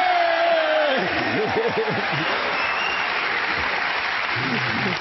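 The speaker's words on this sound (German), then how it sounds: "erstmal Applaus an die beiden hier für dieses Tor beim Schießen." A studio audience on a German TV show applauds a scored goal, with steady dense clapping throughout and a presenter's voice speaking over it.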